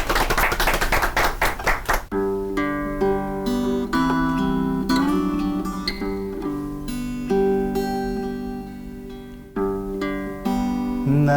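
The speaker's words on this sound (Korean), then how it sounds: "박수로 한번." An audience at a Christian talk show claps in a brisk, rhythmic burst for about two seconds before a guitar-led song begins and carries on alone.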